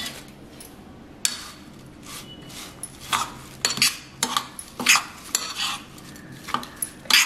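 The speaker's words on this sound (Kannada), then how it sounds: "ಇದನ್ನೆಲ್ಲ ಚೆನ್ನಾಗಿ ಮಿಕ್ಸ್ ಮಾಡ್ಕೋಬೇಕು." Red poha salad being mixed with vegetables in a bowl, a spoon scraping and clinking against the dish in uneven bursts, loud and close, with no one speaking.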